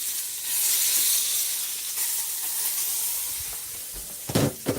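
Homemade cheese-filled pierogies fry in a pan with a steady airy sizzle and hiss of steam, loud at first and easing slightly, ending with a few sharper crackles and pops up close.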